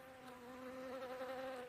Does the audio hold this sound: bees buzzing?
yes